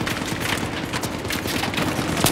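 Heavy gunfire in Battlefield 3: a dense, loud barrage of rapid automatic shots and cracks rattling without pause, close and continuous, with no talking.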